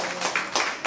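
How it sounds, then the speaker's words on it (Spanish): Brief burst of audience clapping at a Pan-African movement tribute to Winnie Mandela in Barcelona. A short, bright patter of hands swells in two quick waves. "Un aplauso."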